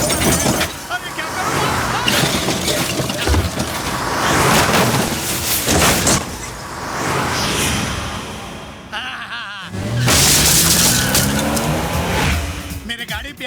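A car races and swerves at speed in a chaotic chase, its engine roaring loudly and steadily beneath excited voices and busy background sounds.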